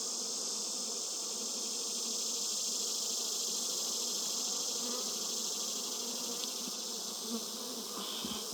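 Honey bees hum inside an open beehive, a dense, steady, close buzz of many insects that stays even throughout with no voices.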